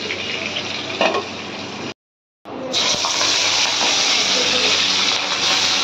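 Hot oil bubbling and spattering in a pan, a loud continuous sizzling hiss that cuts out briefly and then returns even stronger.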